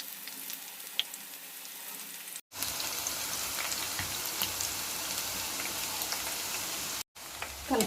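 Chili fritters (mirchi starter) frying in hot oil, a dense steady sizzle and crackle throughout with two brief cuts to silence, no talking.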